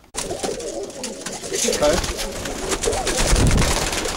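Pigeons cooing in a loft of breeder birds, including an ash red, with soft repeated throaty coos running steadily close by while someone briefly speaks.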